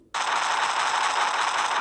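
A sustained burst of rapid automatic gunfire in a video game, loud and close, rattling continuously after a sudden start.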